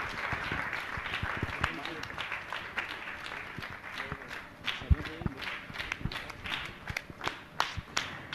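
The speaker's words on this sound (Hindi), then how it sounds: "आपकी तालियां करतल ध्वनि के साथ लगातार बजते रहना चाहिए" An audience applauds at a religious gathering while a host honors a guest, giving sustained scattered clapping with sharp individual claps, heard under ongoing speech.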